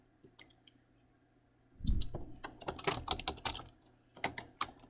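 Mouse clicks on a Continue button in legal form software, heard as a cluster of sharp, close clicks and light tapping in quick irregular succession, in a quiet room with no talking.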